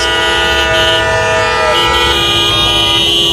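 Car horns honk continuously during nighttime street unrest in Los Angeles, a loud, steady blare of several horns layered together that persists for the whole moment without breaks.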